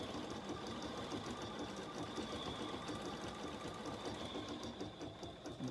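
A BERNINA embroidery machine stitches a garden flag with a steady, fast mechanical whir and rapid needle rhythm, constant and fairly quiet, with no talking.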